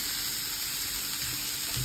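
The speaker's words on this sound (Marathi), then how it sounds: "आता हे आपलं किसलेलं कारलं तव्यामध्ये परतून घ्यायचं आहे।" Continuous soft sizzle of grated bitter gourd sautéing on a hot griddle, a steady close hiss without voices.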